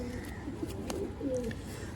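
Pigeons coo softly nearby in low, throaty murmurs, with faint chirps and background noise.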